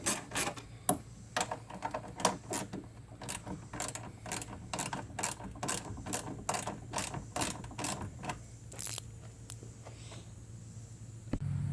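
Headlight screws on a Chrysler Town & Country are snugged up with a ratcheting tool, a quiet rapid series of close clicks that slows and stops near the end.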